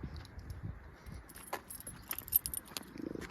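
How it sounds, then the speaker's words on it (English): Car keys for a 1968 Morris 1100 MK2 jangle close by in short irregular bursts, light metallic clinks against a quiet outdoor background with no talking. "Keys."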